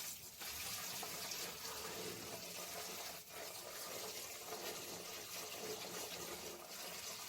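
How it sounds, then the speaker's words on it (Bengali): Running tap water splashes steadily over a pumpkin being washed, a continuous faint gushing that stays even throughout with no speech. "এইভাবে আমি কুমড়োটাকে খুব ভালোভাবে ধুয়ে নেব"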